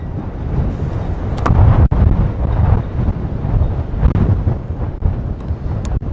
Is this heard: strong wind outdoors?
yes